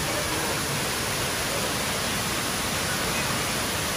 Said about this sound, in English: The waterfall is so relaxing